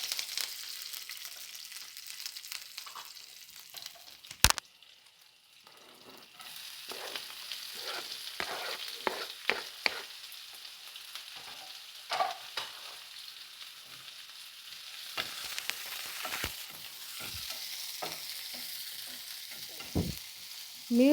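Chana dal, curry leaves and green chillies fry in oil with a low, steady sizzle, broken by frequent sharp clanks and scrapes of a spoon stirring against the pan.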